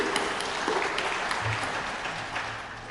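An audience at a corporate meeting claps in a sustained patter of many hands that holds steady at moderate loudness across the room.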